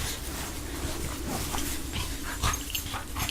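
Dogs pant steadily outdoors at a campsite, a continuous soft breathy rhythm with a small whimper or yip near the end, moderately close under light background noise.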